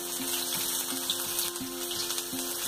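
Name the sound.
ginger, garlic and green chillies frying in oil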